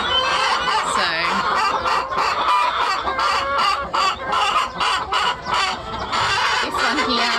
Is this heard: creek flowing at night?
no